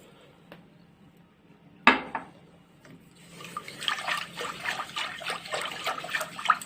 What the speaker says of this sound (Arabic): نحط فيها الكوب ونص حليب اهو